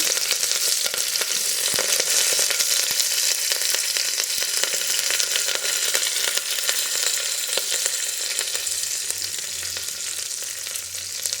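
Onion, green chilies and curry leaves fry in hot oil with a steady, close crackling sizzle, while occasional stirring strokes scrape through the pan; no talking.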